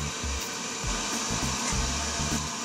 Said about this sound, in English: I've got the pressure turned down low on the airbrush